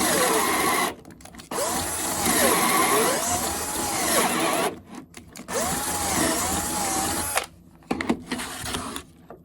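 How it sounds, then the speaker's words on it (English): A power drill whines loudly in two sustained bursts drilling pocket holes through a jig, with rising and falling motor pitch, separated by brief pauses and clattering handling noise. "we tighten the jig up, and then we drill the holes"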